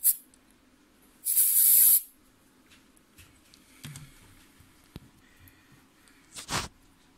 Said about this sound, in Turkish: Spreyle soğutuyoruz.